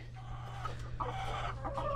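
Chickens cluck close by in short, overlapping calls over a low steady hum.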